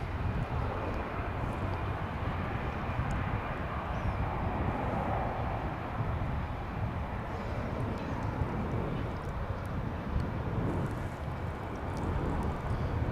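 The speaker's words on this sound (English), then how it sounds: "Here's that Delta flight to Salt Lake City we saw just a few minutes ago. Lifting off." A Delta airliner bound for Salt Lake City lifts off at Dallas/Fort Worth Airport, heard as a distant, steady engine rumble with a soft wind-like hiss that stays fairly even and quiet, with no voices.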